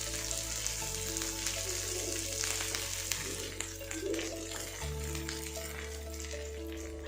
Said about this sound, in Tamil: ஆனியன் நல்லா ஃப்ரை ஆனதுக்கப்புறம் ஒரு கைப்பிடி அளவுக்கு கொத்தமல்லி தழையை நல்லா பொடி பொடியாக நறுக்கி